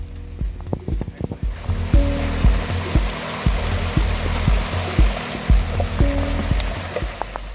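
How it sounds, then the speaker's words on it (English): Afternoon rain at a Colorado Trail mountain camp near Jack's Creek, a steady close patter and hiss with irregular heavier drips and taps on a nearby surface, no talking. "It's raining as per usual in the afternoon."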